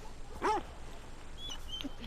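A dog in the video game The Last of Us Part II gives a short yip or whimper during a game of fetch, followed by faint game ambience with a few small chirps.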